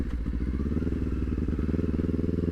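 A beginner rider's motorcycle engine rumbles loudly and close while downshifting, a continuous throbbing idle-to-rev drone with slight pitch changes and no talk.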